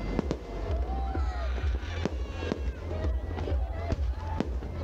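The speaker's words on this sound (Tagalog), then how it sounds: "Grabe, bonggang-bongga yung ano niya, napakita niyang fireworks display." Fireworks pop and crack in a steady string of sharp bangs, some with rising whistles, while people talk over the display at a pyromusical fireworks competition.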